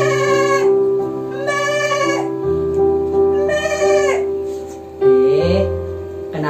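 A sheep bleats repeatedly in a children's Sunday school story, several wavering bleats in a row with short gaps between them, close and loud.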